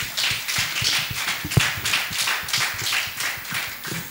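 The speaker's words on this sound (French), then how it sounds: "Sous vos applaudissements, s'il vous plaît." Listeners at a talk on daycare and children's education clap in a loose, steady rhythm, the individual claps distinct and even in loudness, with one sharper knock near the middle.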